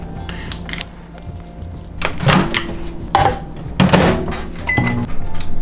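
Food being taken out of a microwave oven while a lean muscle-gain meal is prepared: a few thuds and clicks of the door opening and a container moving, fairly close, with no talk.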